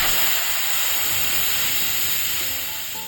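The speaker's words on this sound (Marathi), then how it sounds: "आता कुकरचं झाकण बंद करून आपल्याला मोठ्या आचेवर दोन शिट्ट्या काढून घ्यायच्या आहेत" Steam hisses steadily from a pressure cooker cooking jeera rice over high heat, a loud continuous rush that eases off slightly toward the end, with no talking.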